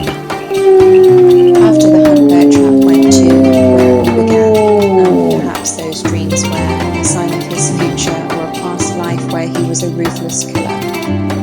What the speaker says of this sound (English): he howled proudly with his pack